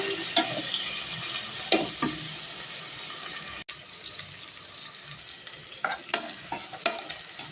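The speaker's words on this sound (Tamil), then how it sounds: "வெங்காயம் ஆட் பண்ணி நல்லா வதக்கிக்கோங்க" Onions sizzle in hot oil in a pan for vegetable biryani while a spoon stirs them, giving sharp scraping strokes at intervals over a continuous close hiss.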